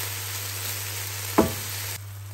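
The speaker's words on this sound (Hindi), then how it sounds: "इसमें हमारे पास जो बॉइल्ड राइस हैं वो अब हम इसमें ऐड करके इनको अच्छे से मिक्स कर लेंगे।" Boiled rice tipped into a pan of frying food, a constant close sizzle with one sharp scrape or clatter of a spoon mid-way as it is mixed, then the hiss drops slightly; no voices.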